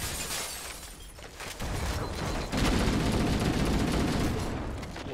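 Gunfire, including a shotgun, in the Halo video game: a rapid fusillade of close, loud shots that thickens into continuous firing, with no talk.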